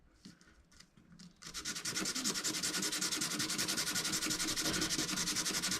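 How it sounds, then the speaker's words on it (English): A wooden alchemist cabinet piece is hand-sanded, beginning with a few light scratchy strokes before steady, rapid, rhythmic rubbing takes over close by; no speech. "let's go ahead and just sand this really quickly"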